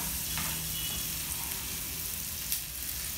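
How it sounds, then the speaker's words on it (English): Chopped onions sautéing in hot oil until slightly brown, a soft, steady sizzle and crackle throughout with occasional faint stirring clinks, close and fairly quiet. "fry them till they get slightly brown. So saute them for some time in the hot oil."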